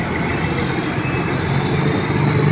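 Heavy truck with trailer rumbling along a city street, a steady low engine drone and road roar holding loud and even throughout, with traffic noise around.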